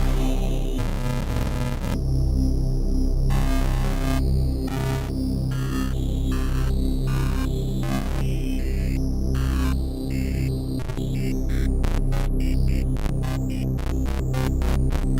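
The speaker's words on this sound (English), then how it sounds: "see how complex of a sound I managed to create just by using one LFO and the distortion parameter like that" A Retrologue software synthesizer tone shaped by a random LFO and distortion: a dense, droning, buzzy chord whose upper texture shifts and stutters in irregular stepped bursts, steady and loud with no voices.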